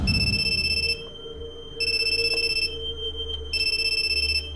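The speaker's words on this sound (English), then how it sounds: "That's the... Cell phone." A cell phone rings in the Wii horror game Calling, sounding three loud, bright electronic ring bursts with short silent gaps between them and no talking.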